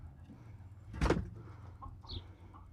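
A chicken inside a coop lets out one loud, abrupt squawking cluck, then a couple of softer clucks, over a low steady background hum.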